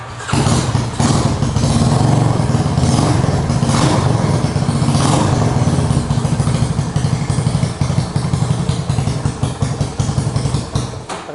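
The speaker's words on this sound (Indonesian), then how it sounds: "kita penasaran nih pasti dengan bentuk knalpot ini suaranya bakal kayak gimana" Motorcycle fitted with a custom-shaped exhaust runs in a garage, its engine starting up and then idling and revving with a loud, close, throbbing low rumble that holds steadily for around eleven seconds.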